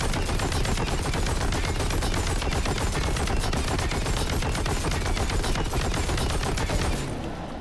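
Sustained automatic gunfire in Warhammer 40k: Boltgun as a boss is shot nonstop, a dense, loud, unbroken barrage of rapid shots that thins out only in the final half second.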